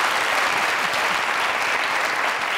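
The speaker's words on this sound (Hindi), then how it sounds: "अरे तालियां मेरे लिए" Studio audience applause on a Pakistani comedy show, a steady, even wash of many hands clapping throughout, moderately loud with no break.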